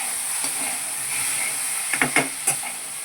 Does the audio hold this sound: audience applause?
no